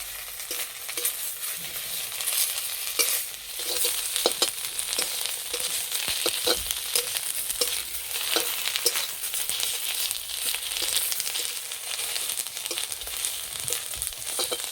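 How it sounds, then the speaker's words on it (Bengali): Neem leaves fry in a pan, a steady close sizzle punctuated by repeated stirring scrapes and clicks throughout. "পাতাগুলো এইভাবে একটু ভেজে নিলে না তেতোটা অনেকটা কম লাগে"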